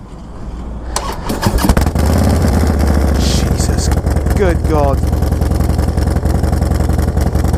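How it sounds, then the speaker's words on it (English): A 2016 Harley-Davidson Dyna Low Rider S 1800cc engine cranks and fires up, settling into a loud, deep rumbling idle through a Vance & Hines 2-into-1 competition exhaust, with a man exclaiming over it. "Are you ready to hear an 1800cc engine with a Vance & Hines 2-in-1 competition exhaust?"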